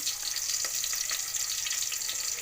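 Onion and bay leaf frying in hot oil in a pan for pulao, a steady, bright sizzle that carries on without a break, close and even, with small crackles and no talking.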